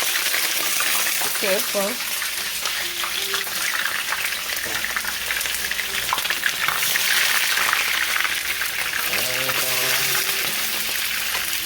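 Onion and seasoning sizzle in hot oil in a home kitchen, a steady crackling hiss running throughout while someone talks over it close by.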